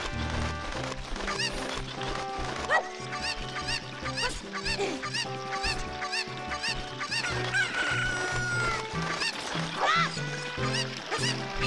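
A chicken in Zelda: Ocarina of Time gives off repeated squawks and clucks, close and insistent, over layered game music.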